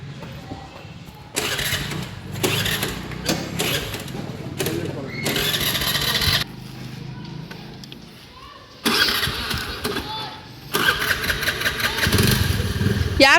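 A two-wheeler engine is kicked over several times in short loud bursts, catching and revving in uneven spurts between quieter gaps, with voices talking nearby outdoors.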